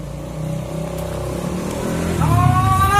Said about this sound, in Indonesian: Alamak, Ted, bawa motor apa?